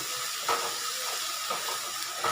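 Ginger, cumin, cardamom, clove, cinnamon and tomato paste frying in hot oil for a chicken curry, giving a steady, close, continuous sizzling hiss with faint stirring clinks and no talking.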